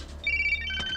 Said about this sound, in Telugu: అరే రింగ్ అవుతుందిరా